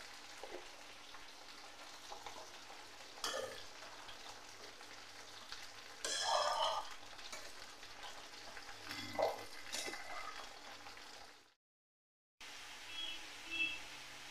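Jackfruit and shrimp frying with ghee in a pan, a steady sizzle with occasional scraping stirs and a brief louder burst midway, then a short gap of silence before the sizzling resumes.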